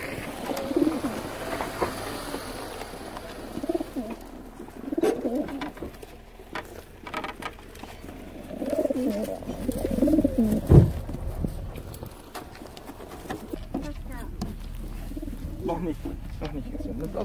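Pigeons coo in soft repeated calls outdoors during a dove training session, with people talking nearby and faint background noise throughout.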